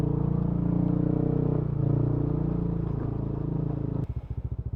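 A motorcycle engine runs loud and close with a steady throbbing growl while crossing a river. Near the end it turns into a slower, pulsing chug as it strains.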